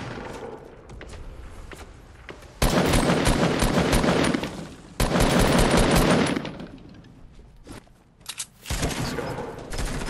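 Sustained bursts of automatic gunfire in the video game Fortnite come in two long loud volleys separated by quieter stretches of scattered shots, with another short burst at the end.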